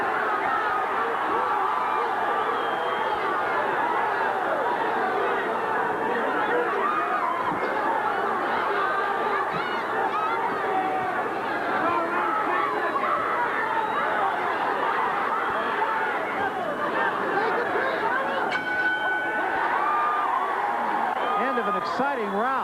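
A boxing crowd at an Arizona State featherweight bout keeps up a dense, continuous murmur of chatter and scattered shouts, steady and moderately loud without a sharp peak.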